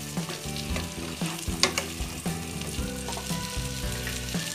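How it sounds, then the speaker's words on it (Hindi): Okra sabzi stirred in a pan, a steady sizzle with occasional scraping clicks of the spoon under continuous background music, no talking. "इसे अच्छे तरीके से मिक्स करेंगे।"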